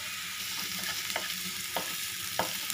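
Cut green chillies frying in hot oil for a Tamil half samosa filling, a steady broad sizzle with a few sharp crackling pops and occasional stirring scrapes, close and fairly loud throughout.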